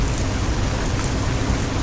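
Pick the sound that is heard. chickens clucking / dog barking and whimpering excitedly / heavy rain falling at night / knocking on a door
heavy rain falling at night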